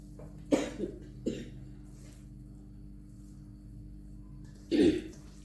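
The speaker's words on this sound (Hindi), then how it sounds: "मुझे खांसी आ गई है" Three coughs: two short ones close together near the start, then a heavier, longer burst a few seconds later, over a low steady hum.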